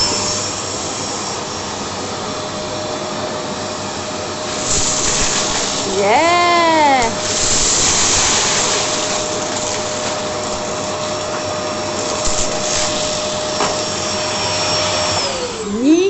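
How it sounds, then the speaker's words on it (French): A repaired vacuum cleaner runs with a loud, steady whining roar while sucking up dried red beans, with a woman cheering briefly over it. "Maintenant, je vais tester si il aspire, parce qu'il n'aspirait plus du tout."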